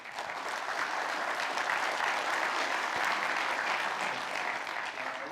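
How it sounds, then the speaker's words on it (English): Conference audience at an enterprise tech talk gives a sustained round of applause, an even, dense clatter of many hands that holds steady from start to finish. "let's give Karl a round of applause quick"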